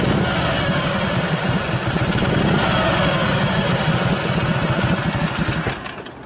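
A 1965 Harley-Davidson Panhead 74ci FLH motorcycle engine with a Linkert carburetor runs loud and close, a continuous lumpy thumping idle that eases off slightly at the end, with no talking.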